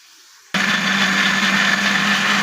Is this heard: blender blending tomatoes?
yes